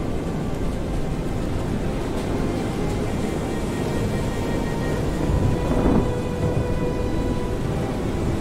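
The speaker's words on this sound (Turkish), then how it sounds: "Yağmur da başlayacak gibi ha." Rain and rumbling thunder from the video game FAR: Changing Tides, a continuous low, dense wash with a slightly louder roll of thunder near the end, no voices.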